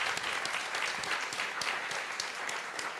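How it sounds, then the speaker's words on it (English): Audience applause at a panel discussion after a special film screening: dense, steady clapping from a crowd filling the room, continuous and fairly loud throughout with no talk over it. "I just want to take a moment and give her a little applause"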